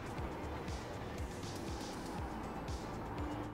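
A car engine in a sim racing video game drones steadily with rising and falling revs from repeated gear changes, a continuous mechanical roar throughout.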